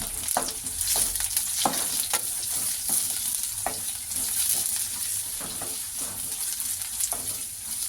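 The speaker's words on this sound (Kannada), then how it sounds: "ಇದನ್ನೆಲ್ಲ ಚೆನ್ನಾಗಿ ಹಸಿ ವಾಸನೆ ಹೋಗೋವರೆಗೂ ಫ್ರೈ ಮಾಡ್ಕೊಳ್ಳೋಣ" Sliced vegetables fry in a pan for bisibelebath, giving a steady close sizzle broken by regular scraping strokes of a stirring spoon throughout.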